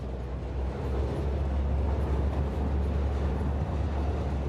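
A train in the Satisfactory game rolling along rails, a steady deep rumble with a low drone that holds at even loudness throughout, with no talking.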